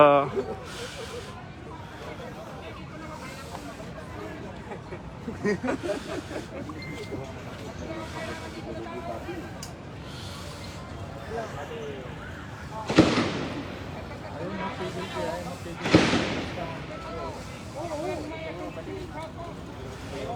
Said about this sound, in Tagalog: may mga putok pa ng mga baril, no, na nagaganap dito sa may Ever Commonwealth